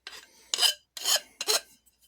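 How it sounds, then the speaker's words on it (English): A metal file rasps along the edge of a metal greenhouse bracket to remove a burr, in four short, loud, close strokes with brief pauses between them and no talking. "you just run them along the edge. See, I'm going on an edge to remove that burr"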